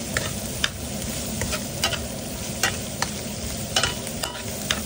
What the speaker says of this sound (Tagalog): Ginisa po natin yung bawang sibuyas.